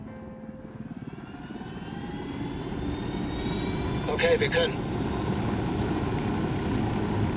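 A helicopter engine in Ghost Recon Wildlands spools up and drones steadily, rising in loudness and pitch as it starts, while someone speaks briefly over it.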